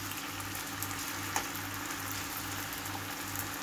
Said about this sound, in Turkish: Şimdi bunlar kızarsın.